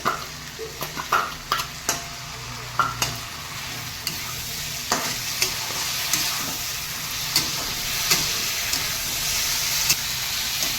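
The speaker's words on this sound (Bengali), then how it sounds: "এবারে আমি চিংড়ি মাছটাকে দিয়ে একটু কষবো আর ঢেঁড়সও" Prawns and okra sautéing with spices and tomato paste in a pan, a steady sizzle broken by repeated sharp spatula scrapes and clicks from stirring at irregular intervals.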